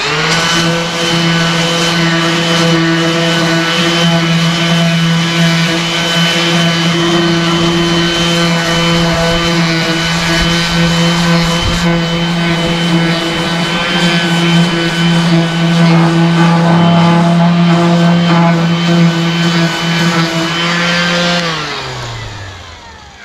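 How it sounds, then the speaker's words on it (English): Power sander rounding the edge of a laminated fiberglass channel: a loud, steady motor whine with a strong hum runs close by for over twenty seconds, the pitch shifting slightly under load before it winds down at the end. "So I'm just going to try it with the sander and see how well this works."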